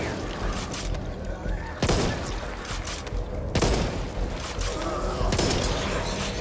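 Rifle gunfire in the Back 4 Blood co-op shooter, with sharp repeated shots and several loud cracks spaced a second or two apart over chaotic background noise, and players talking.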